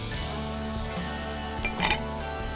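Bacon and sausage fry in a hot pot for a meat-lovers dish, giving a continuous close sizzle with a low hum underneath. Near the end a few brief clinks of utensils against the pot cut through.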